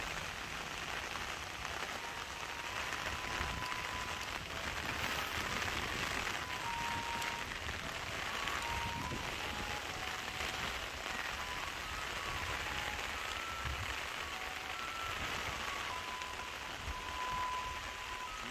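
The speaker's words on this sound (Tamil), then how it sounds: "மரம் மாறுற இதை பாருங்க, மழையும் பெய்யுது." Heavy rain during a storm in Point Pedro, Jaffna, Sri Lanka, a steady dense patter of drops on surfaces, moderately loud and continuous with no talk.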